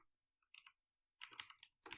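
Quiet computer keyboard typing: a short burst of light clicks, a pause, then a longer run of soft, close key taps.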